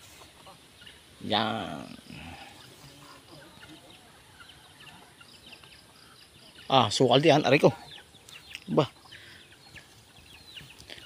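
Nearby chickens let out a few short bursts of clucking, separated by quiet stretches, with a person speaking briefly in between.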